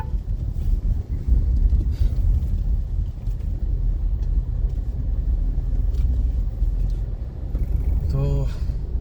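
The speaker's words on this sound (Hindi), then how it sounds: "तो काफ़ी टाइम बाद मैं गाड़ी चला रहा हूँ वापस" A car's engine and road noise on a drive, a steady low rumble with wind buffeting throughout, fairly loud and close inside the cabin, with a brief tonal chime or horn-like sound near the end.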